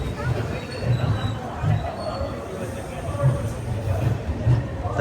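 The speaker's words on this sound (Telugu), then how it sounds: "గుంటూరు సికింద్రాబాద్ ట్రైన్." At Secunderabad railway station, the Guntur–Secunderabad train gives off a low, pulsing rumble of rolling railcars with faint wheel squeals, heard close, with indistinct voices nearby.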